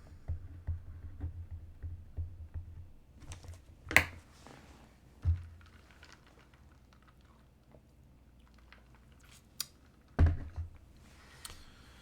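Quick, light typing on a computer keyboard in a quiet room, with irregular soft key clicks and a few louder taps, heard close and alone without talk.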